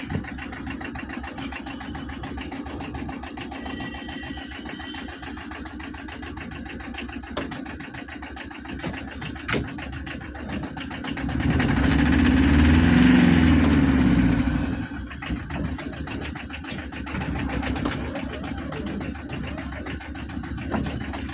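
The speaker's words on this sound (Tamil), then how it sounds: "வண்டி இப்போ ரிவர்ஸ் கியர் போடுறேன்." A 2011 Tata Ace mini truck's engine runs steadily at idle while the gear is shifted into reverse, swelling louder for a few seconds midway before settling back to an even hum.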